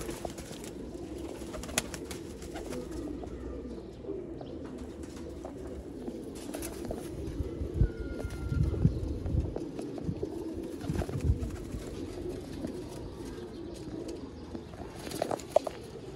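Pigeons coo softly in a coop of low-cost birds, low murmuring calls repeating against a quiet background with occasional faint rustles.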